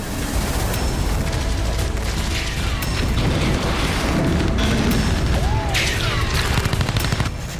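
Artillery shelling pounds Kostiantynivka in the Russia-Ukraine war, a continuous dense rumble of booms and crackling blasts with distant rattling fire, loud and unbroken throughout.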